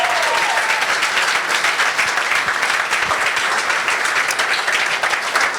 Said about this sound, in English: Give Solène a round of applause.